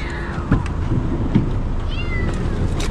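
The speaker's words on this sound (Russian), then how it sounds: "Он кричал и кусался." A struggling, biting kitten cries out in several loud, close meows spaced across a few seconds, against a noisy background.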